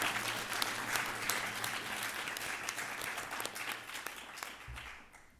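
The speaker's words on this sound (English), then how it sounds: "I feel like we need like a round of applause for the workshops" Steady audience applause for workshop hosts at a community fast-breaking ceremony on Vancouver Island, a dense wash of clapping heard from a distance that fades out toward the end.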